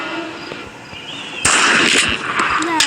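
A video game gunshot for a headshot, a sudden sharp loud crack at about 1.5 seconds followed by a noisy burst and game effects, with no talking.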